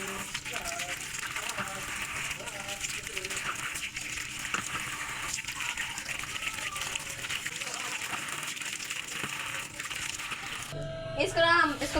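Tap water runs continuously at close range into a sink while a steel spoon is washed, a steady splashing stream under ongoing speech, ending with a brief clatter.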